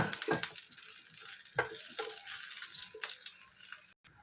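Green chillies and cumin seeds frying in oil in a pan for a Telugu amla pickle, a steady close sizzle with brief stirring scrapes and clicks, with no voices over it.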